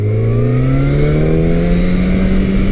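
A Yamaha FZ1 Gen 2 sport-standard motorcycle engine drones loudly and close while being ridden at moderate revs, its pitch climbing smoothly and steadily.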